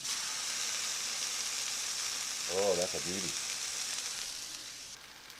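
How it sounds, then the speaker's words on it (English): Loud, steady sizzling of A5 wagyu steak searing in a Halo Versa pizza oven, with someone briefly speaking over it midway. "we're going to see how the sizzle sounds"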